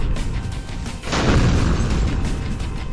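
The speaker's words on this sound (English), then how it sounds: "So many explosions in my ears." In the video game Road Redemption, a heavy explosion boom bursts out about a second in, followed by a sustained rumbling roar, with lighter crackles before it; no voices.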